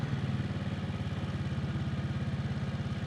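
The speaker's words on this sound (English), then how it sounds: "just allow the engine braking to slowly bring me down the hill" A 2023 Can-Am Outlander PRO HD5 ATV engine runs steadily at low revs with a rapid, even throbbing pulse, close and constant throughout, engine braking down a steep hill.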